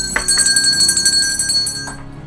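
A bell rings with bright sustained tones that hold steady and then fade toward the end, heard alone without speech.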